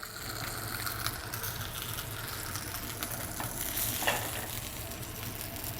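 Korean chili sizzles in a hot pan alongside a rack of lamb, a steady close crackling fry with faint stirring, no talk.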